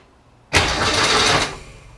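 Restored 1965 Ford Falcon engine cranks and catches with a sudden loud roar, holding a strong rumble for about a second before easing off.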